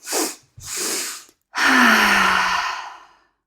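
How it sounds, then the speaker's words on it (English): Breathing exercise for relaxation: two short, sharp nasal inhales in quick succession followed by a long, audible sighing exhale through the mouth, close and loud with no talking. "So it's like you're taking 2 sharp inhales"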